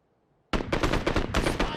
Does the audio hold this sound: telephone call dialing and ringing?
no